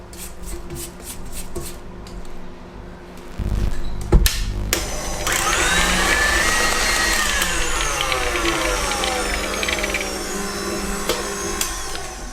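An electric whisk beats egg yolks into chocolate almond cake batter, starting after a few seconds of clicks and bumps and then whirring steadily and loudly with shifting pitch until the end, with no speech.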